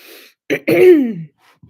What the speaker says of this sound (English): Let me clear my throat a little bit.